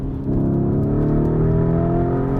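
The V8 engine of a 2020 Lamborghini Urus SUV revs hard and steadily climbs in pitch toward its 6,800 RPM limiter, its rumble building into a loud, sustained rasp near the top of the rev range.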